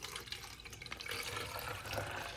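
Water runs from a tap to fill a glass up to a marked level in a game, a close, bubbling gush that rises in intensity over a couple of seconds.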